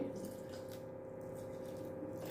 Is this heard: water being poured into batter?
yes